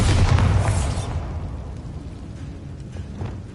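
A loud booming blast from a Confringo or Bombarda spell in Hogwarts Legacy, a single heavy burst at the start that decays into a low rumbling tail with faint crackles afterward.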